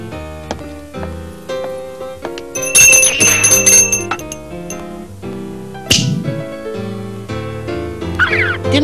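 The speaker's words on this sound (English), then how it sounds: "just tinkle the bell" A small bell tinkles in bright, repeated ringing strokes with lingering shimmer. It sounds close and fairly loud and is mixed with music-like tones, and no one speaks over it.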